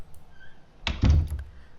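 A door closing in the video game A Light in the dark, a single muffled thunk with a brief rattle, close and fairly loud against a quiet room tone, with no talking.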